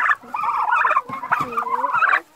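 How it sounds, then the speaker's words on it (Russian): Close, loud gobbling from two-month-old Hybrid Converter turkeys, a rapid burbling chorus from several birds overlapping for a couple of seconds. "Скажите, пожалуйста, вот это все индюки же?"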